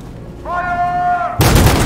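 A sustained tone leads into a sudden loud eruption of gunfire during a protest confrontation in the video game Detroit: Become Human, a dense blast of shots cutting in near the end.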